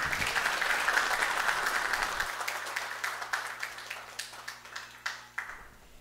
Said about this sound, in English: Round of applause for the bride and groom.